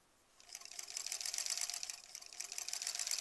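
A sewing machine stitching a quilt block seam starts up after a quiet moment, then runs in a fast, even chatter that stays fairly soft and close, with no voices.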